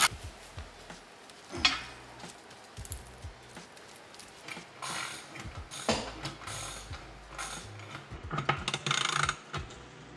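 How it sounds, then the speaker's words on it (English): A wrench or socket tightens skid plate bolts on a spare tire mount of a Jeep Gladiator, with scattered ratcheting clicks, metallic knocks and clanks coming in irregular bursts at close range. "get a wrench or a socket on that other side"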